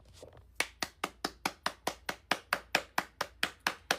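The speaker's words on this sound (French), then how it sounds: "Je t'applaudis." A single person claps hands in a steady, even rhythm, about fifteen sharp claps in four seconds after a few softer ones at the start, close and clear with no talking.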